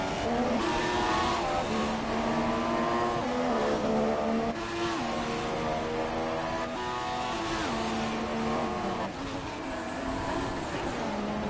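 Formula 3 race cars in a racing video game at the European Grand Prix roar past in a pack, engines whining and shifting through rising and falling pitches, loud and continuous with overlapping cars.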